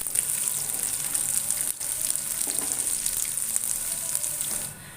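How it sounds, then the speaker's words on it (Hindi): Chopped garlic frying in oil in a pan for lasooni palak, a constant bright sizzle and crackle with small stirring clicks, close and loud, no voices. "अब मैं इसके अंदर 2 टेबल स्पून लहसुन है, ये चॉप किया भी, ये डाल दूंगी।"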